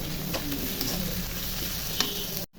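Whole spices, cinnamon, cloves, cardamom and bay leaves, hitting hot oil in a pan for chicken bhuna, a soft steady sizzle with light stirring clicks, close and fairly quiet, cut off abruptly near the end.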